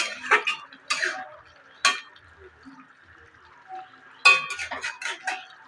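Ridge gourd curry with prawns and coconut is stirred in a pan. A few sharp utensil knocks and scrapes come in separate bursts with quiet gaps between them, close and moderately loud, and no one talks.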